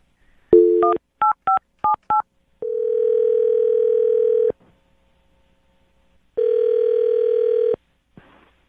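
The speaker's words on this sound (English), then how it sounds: "I'm going to dial his phone number right now" A phone number is dialed on a telephone keypad: a quick run of about five touch-tones, then a steady dial-style tone, a pause, and a second long tone, all clear and close with no talk.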